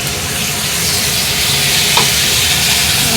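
Spice paste with turmeric and Kashmiri red chili powder stir-fried in a pan for a fish-head and cabbage dish, giving a steady close sizzle with scraping stirring throughout.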